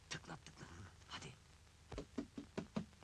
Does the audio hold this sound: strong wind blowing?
no